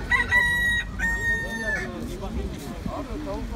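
A rooster crows loudly nearby, a long drawn-out call followed by a second, with muffled voices and clucking in the background.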